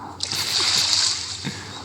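Water splashes into a swimming pool in the Ark video game, a bright, continuous splashing and pouring burst that starts abruptly and then fades slightly over a couple of seconds.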